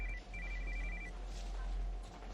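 Telephone ringtone ringing in the TV show Riverdale, a repeated high electronic trill in short bursts over a steady low hum and background noise.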